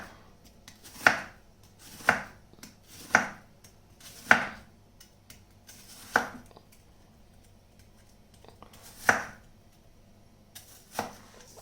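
A knife chops through a red onion on a board: about eight sharp, separate cuts spaced a second or so apart, close and crisp with quiet gaps between, and no talking.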